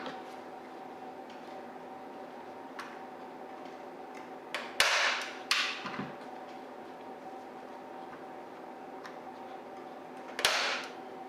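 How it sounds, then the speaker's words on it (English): A few sharp staple-gun shots fire fabric onto a wooden dining chair frame, spaced irregularly amid quiet handling and rustling, with one loud snap followed by fabric scraping and another shot near the end. "So now I'll just keep stapling the rest of the sides, and I just keep pulling the fabric as tight as I can."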